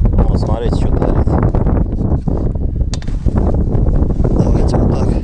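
Strong gusts buffet the microphone in heavy low rumbling bursts while someone talks, during outdoor servicing of a Shtorm Indigo 125 Cross moped.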